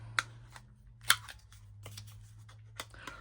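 Scissors snip the corners off a piece of craft paper, making several sharp, quiet cuts at uneven intervals over a low steady hum, with no speech.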